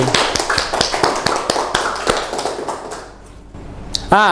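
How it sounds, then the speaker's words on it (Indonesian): Classroom applause for a student presenter in a vocational school photography class, a run of sharp separate claps in a quick irregular rhythm close by, thinning out near the end as a short tonal ping sounds. "Tepuk tangan untuk Mas Fendi."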